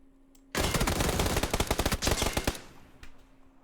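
A sudden burst of rapid automatic gunfire in the video game PUBG, loud and close, rattling for about two seconds before stopping, followed by a couple of faint shots.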